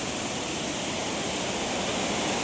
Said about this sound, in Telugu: అండ్ వాటర్ ఫాల్స్ అన్నీ ఫుల్ ఫ్లోలో ఉన్నాయి.